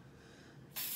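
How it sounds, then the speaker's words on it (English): Matte aerosol spray is released over an acrylic painting on a craft bird house, a quiet room tone broken near the end by a sudden loud, bright hiss. "So I want to spray a little bit like that."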